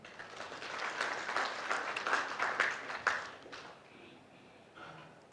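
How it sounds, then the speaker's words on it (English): Audience applause at a national journalism awards ceremony, a broad wash of clapping that swells for about four seconds and then thins out, fairly moderate in level. "So clap for yourself."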